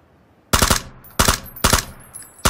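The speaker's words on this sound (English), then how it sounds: "Incoming fire." Four loud, close gunshot bursts from PUBG gameplay ring out one after another, each a sharp crack with a short ringing tail, after a brief quiet start.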